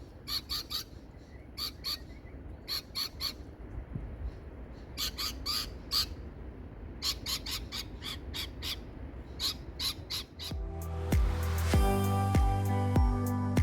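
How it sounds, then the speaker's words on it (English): Harsh, repeated squawking bird calls come in rapid clusters over a steady wash of waves on an Australian beach, which grows louder and rougher toward the end. "taking in the sounds of the waves and the birds"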